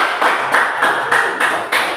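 Applause in a classroom, several loud, evenly spaced group claps in quick succession, close and sharp, with no talking.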